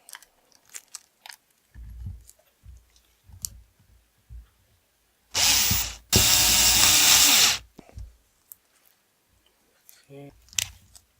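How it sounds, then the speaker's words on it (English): Screws are driven into a Losi 5ive T RC kit with a ratchet, a bed of soft clicks and handling taps broken by one loud grinding burst of two to three seconds, while a voice speaks briefly at times. "Now all I have to do, screw them in."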